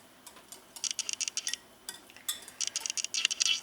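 Blueberry muffin batter being mixed with a spoon or fork in a bowl: quick, light clinks and taps in irregular bursts, close by and fairly quiet, with a short pause midway and no talking.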